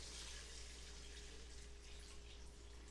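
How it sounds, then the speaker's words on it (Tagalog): Water pours steadily into a cooking pot while making sinigang sa miso with fried milkfish: a faint, even rushing stream with no talk over it. "Then maglagay na tayo ng tubig."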